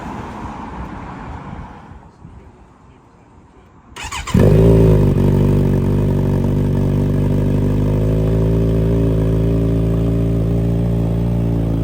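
A Kawasaki Z900RS motorcycle engine with a full Akrapovič decat exhaust starts after a few quiet seconds, then settles into a loud, deep, rumbling idle from the very loud exhaust, close by.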